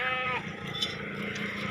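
Goats bleating at a farm in Hasilpur, a short bleat near the start followed by quieter farmyard sounds, with someone talking faintly in the background.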